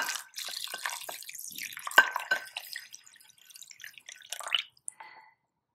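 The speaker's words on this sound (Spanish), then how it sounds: "Luego echamos el agüita," Water from a glass is poured onto rice in a bowl, making close, splashing bursts and trickles with uneven gurgles that taper off into a few drips before falling silent.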